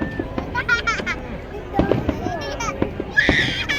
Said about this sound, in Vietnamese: Trên biển bắn pháo hoa